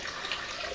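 A cup of cold water is poured into a pot of peaches and hot peppers, a brief bright splashing pour with no talk.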